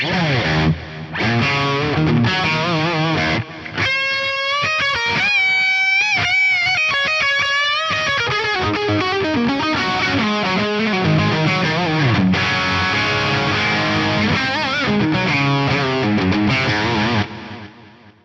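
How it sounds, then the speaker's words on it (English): A Yamaha REV7 delay set to 330 and 440 ms echoes a distorted electric guitar, sustained chords and ringing notes repeating and trailing off, loud and continuous for most of the passage before cutting out at the end. "I've got it set up for a basically like 300 millisecond, 400 millisecond delay"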